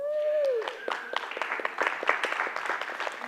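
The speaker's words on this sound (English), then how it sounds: "it is always exciting to me that we applaud for that" A church congregation breaks into applause after the offering, scattered claps building over a few seconds as a sustained musical tone fades out at the start.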